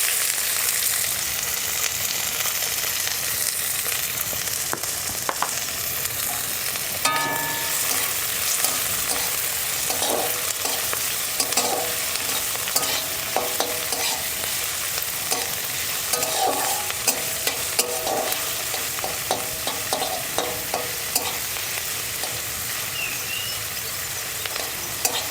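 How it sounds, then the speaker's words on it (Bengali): Chopped onion sizzles and fries in a pan while being stirred, a steady close crackle with scraping and stirring clatters throughout. "এরপর দেব পেঁয়াজ কুচি,"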